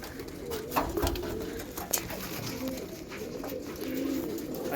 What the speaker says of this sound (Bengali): এই একটা পায়রা এই পায়রাটা দেখুন টিপলা পায়রা আছে